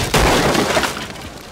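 A hatch is smashed open in the shooter game Rainbow Six Siege: one sharp, loud splintering crash that breaks apart and trails off into debris over about a second.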